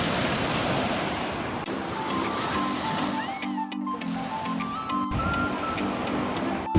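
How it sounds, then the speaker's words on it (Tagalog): Ocean waves wash continuously on a Siargao beach with wind buffeting the microphone, a loud, steady surf roar with faint tonal bits, and no speech. "Ayun yung dagat."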